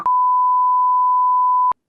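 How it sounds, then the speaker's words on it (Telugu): A single long, steady electronic beep sounds on a phone line while a call is on hold. It is loud and plays alone, then cuts off abruptly with a brief faint sound after it. "The person you are speaking with has put your call on hold."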